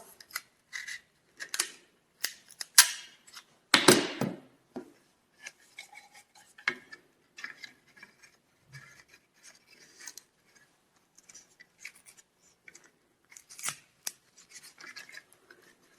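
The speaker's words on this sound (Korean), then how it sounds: "스카치 테이프를 조금 잘라서" Scissors snip a strip of scotch tape in a few sharp, close clicks and cuts, followed by scattered light handling and rubbing noises in an otherwise quiet room.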